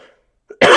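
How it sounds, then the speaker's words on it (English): After a brief quiet gap, a short faint intake is followed by a loud, harsh cough that bursts in close and fills the rest of the moment. "I gasped there so hard I coughed."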